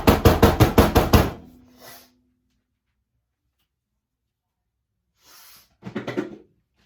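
A cold process soap mold is tapped on a surface in a quick burst of about seven firm knocks. After a silent pause, a brief rustle comes, then a second short cluster of taps.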